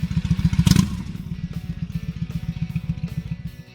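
A Honda Shadow Ace 750 cruiser motorcycle idles with a steady, loping rhythmic thump. One brief rev swells early, and then the engine settles back to an even putter, close and clear.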